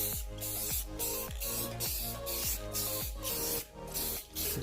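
Spray gun applying a second coat of gloss paint to a polyurethane lip kit on a 1996-01 Honda Prelude, close, steady hissing bursts in a rapid regular rhythm of about eight passes.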